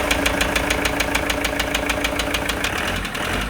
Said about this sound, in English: Her engine was making a horrible knocking noise